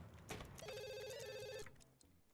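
A telephone rings in The Sims video game, a bright electronic trill holding steady for about a second before cutting off, clear and close.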